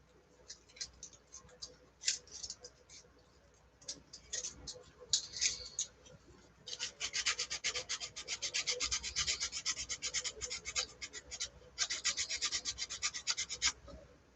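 Wood being sanded by hand, quiet close rasping strokes in irregular bursts at first, then a faster steady back-and-forth rhythm, with no talk.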